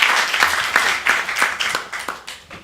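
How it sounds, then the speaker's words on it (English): An audience claps at a city council meeting, a brief scattered round of applause with distinct individual claps, fairly faint and fading toward the end. "Give her a round of applause, people."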